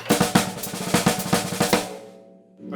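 A drum played with accented strokes over a clean double-stroke roll filling the gaps: dense, even, rapid strokes with periodic louder accents, close and alone, ending in a brief fade.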